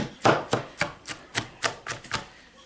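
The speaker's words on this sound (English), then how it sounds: "we just gotta keep chopping" Knife chopping vegetables on a cutting board for a salted lacto-fermentation, about nine sharp, evenly spaced chops close by, with no talking.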